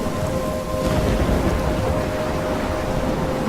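Heavy rain pours in the Life is Strange storm while a low rumble of thunder rolls underneath, a dense continuous wash, loud and close with no voices.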